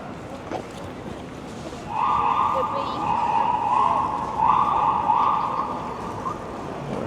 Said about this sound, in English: Sirens down there. This time it's an ambulance.